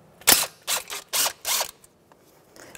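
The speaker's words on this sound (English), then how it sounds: "we're gonna dismount the mounting bolt," A ratchet fitted with a 10 mm socket clicks in four quick close bursts as it loosens the ABS wheel speed sensor mounting bolt on a 2007-2010 Chrysler Sebring, followed by a faint trailing rattle.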